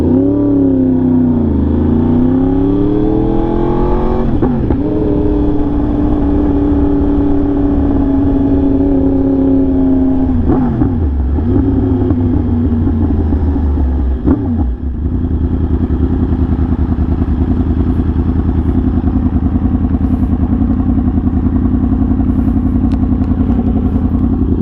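A Yamaha R1M motorcycle fitted with a new SC Project exhaust roars loud and close, revving and shifting through gears with rising and falling engine pitch, then settles into a steady cruising drone, no voices.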